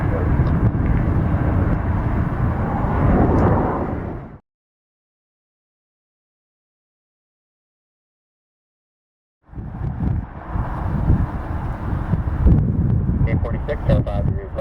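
A Delta Boeing heavy airliner departs Detroit Metro Airport with a loud, broad roar, cut off by a stretch of silence before the rumbling resumes; no talk is heard.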